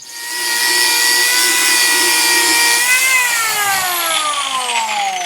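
An angle grinder stripping paint and varnish off a wooden skiff, a loud, close, high-pitched whine held steady, then sagging in pitch as it winds down or bites into the surface.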